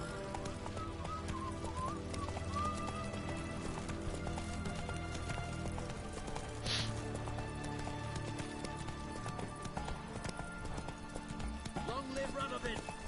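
A horse gallops in The Witcher 3, its hoofbeats a quick, quiet patter under game music and ambience, with a brief whinny and voices talking along the way.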